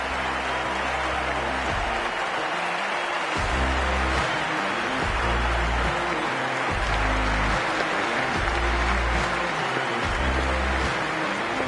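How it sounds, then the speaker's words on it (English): A cricket stadium crowd ahead of an India vs Pakistan T20 match keeps up a constant broad roar and cheering, mixed with loud rhythmic drumming or music pulses throughout. "already the crowd is up and about"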